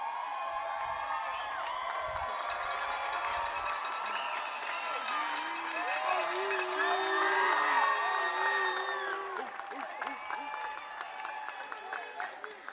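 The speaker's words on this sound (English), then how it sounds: "please join me in a round of thunderous cheering and applause" A graduation commencement audience cheers and applauds for the scholars: sustained clapping mixed with shouts, whoops and high excited voices that swell in the middle and then taper off.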